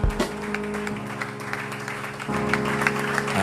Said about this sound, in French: on acclame très fortement le Seigneur